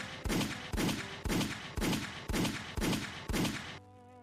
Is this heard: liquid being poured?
no